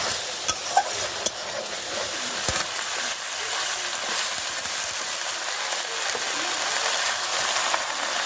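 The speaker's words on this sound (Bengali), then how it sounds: "তারপরে এবার তরকারিগুলো দিয়ে দিলাম, সুন্দর করে কষিয়ে নেব" Vegetables stir-frying with spices in a pan, a steady close sizzle with occasional light scrapes and clinks of a spoon throughout.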